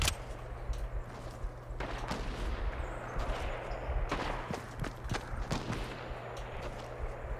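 Gunfire in a video game: scattered shots and bursts crackle over a steady low rumble of game sound, moderately loud throughout with no talk.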